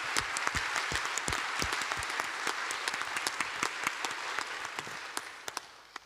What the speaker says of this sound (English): could we just give a round of applause again for Divine?